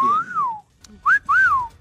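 A person whistles three rising-and-falling notes, each a bright swooping tone, with a short pause before the last two; no talking.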